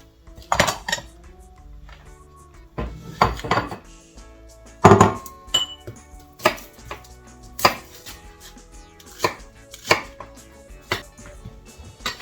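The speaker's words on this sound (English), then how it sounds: "And cut small like this, and small chunks." A knife chops lemongrass into small chunks on a board, giving sharp irregular thuds with short pauses between bursts, close and distinct, with no voices.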